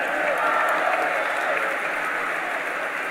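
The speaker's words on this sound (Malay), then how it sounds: "Kita berikan tepukan bergemuruh untuk PM" Thunderous applause from a crowd at a youth wing launch rally for a political party, honoring the prime minister; a dense, loud, steady roar of clapping that holds for the whole stretch.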